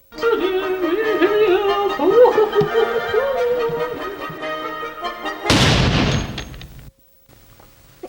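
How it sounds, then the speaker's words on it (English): A loud, sharp gunshot-like blast with a rumbling decay, preceded by someone talking excitedly; brief quiet follows. "Do you not know the sound of a gunshot?"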